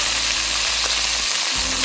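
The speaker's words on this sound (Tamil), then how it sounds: "டக்குன்னு வெங்காயம், கடுகு, காஞ்ச மிளகாய் எல்லாம் போட்டு இதை பாருங்க அப்படியே தாளிக்கிறேன்" Onion, mustard seeds and dried chillies sizzle loudly in hot oil, tempered for sambar, a dense, continuous close-up crackle with no talking.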